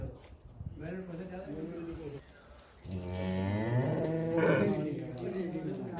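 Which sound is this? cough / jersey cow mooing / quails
jersey cow mooing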